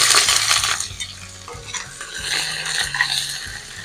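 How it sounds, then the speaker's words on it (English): Onions, curry leaf and chili sizzle and fry in a pan for a Guyanese egg curry, a steady close hiss broken by scraping stirs and light clinks of a utensil against the pan, with no talking. "And that sizzle and the smell of the onions is delicious."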